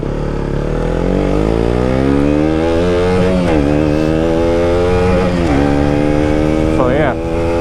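A KTM Duke 125 motorcycle ridden at a steady, loud engine drone, its pitch climbing and falling through gear changes while a rider talks over it.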